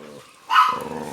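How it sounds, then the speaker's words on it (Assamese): A dog barks from inside a house in a Bodo village home: one short bark, then a sustained growling bark, close and fairly loud, with no one talking. "এটা কুকুৰ আছে। সেইটোক চাই চাই ভিতৰৰ পৰা ভুকি আছে"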